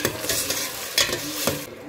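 Onion and ground tomato stirred in a hot pan for masala pasta give a close, busy sizzle with repeated spatula scrapes and knocks at an uneven rhythm, no voices present.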